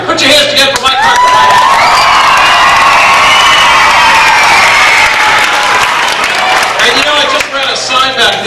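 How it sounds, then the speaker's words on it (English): A gym full of schoolchildren at a school assembly breaks into loud, sustained applause mixed with cheering and high-pitched shouts, swelling and then tapering off near the end. "Give yourself a big round of applause."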